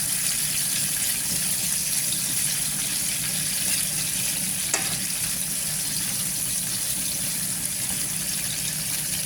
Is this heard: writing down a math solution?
no